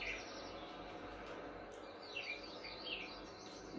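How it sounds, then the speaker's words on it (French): Birds singing outdoors on a French farm, faint chirps and tweets drifting over a steady low rural background, no talk. "les oiseaux chantent."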